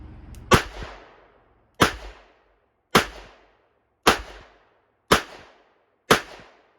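Stainless steel .38 Special revolver fired at an outdoor target: six sharp, loud shots spaced about a second apart, each with a short decaying tail, no talking between them.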